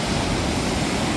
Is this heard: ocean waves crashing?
yes